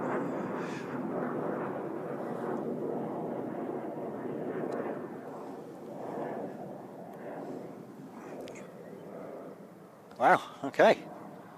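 Emirates airliner jet engines spooling up at Christchurch Airport, a distant low broad rumble that swells and fades unevenly, with a person briefly speaking near the end.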